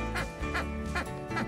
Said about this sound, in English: So for Daisy, we got a little squeaky one